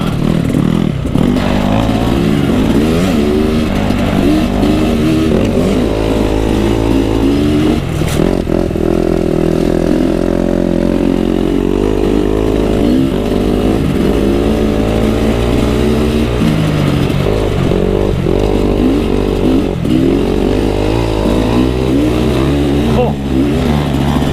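A KX250 dirt bike rides a motocross track, its engine loud and close throughout, revving and dropping off continuously as the rider works the throttle.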